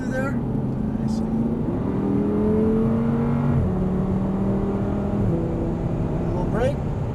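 Audi R8 engine on a racetrack, steady in-car drone with rising and falling pitch as the throttle is balanced through a corner, with gear changes audible, under a continuous road and wind roar.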